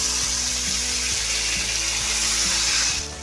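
Water is poured into a simmering potato curry in a cooking pot, a steady close splashing hiss that fades out at the end, with faint tonal background sound underneath.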